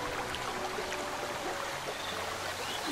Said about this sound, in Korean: 아, 물소리만 들어도 마음이 맑아지네요.